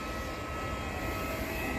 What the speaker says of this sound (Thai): การบินไทยเพิ่งลงมาจอดลำนี้